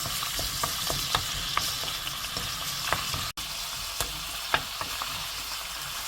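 Black bean paste with garlic and sugar stir-fries for jjajangmyeon, a constant close sizzle broken by periodic scrapes and taps of the spatula against the pan.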